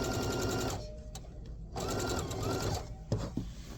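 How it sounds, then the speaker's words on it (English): A sewing machine stitches a fabric wine bag in short close bursts, running, pausing briefly, then running again at moderate volume. "I'm going to sew just to about here so that I can get my hand in there"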